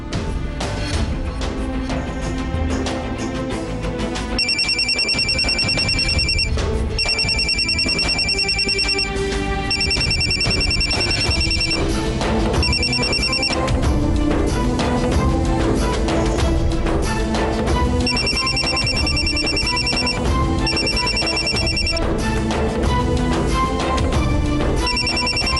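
A telephone rings again and again with no one picking up, its repeating electronic ring pattern sounding over steady background music throughout, with no talking.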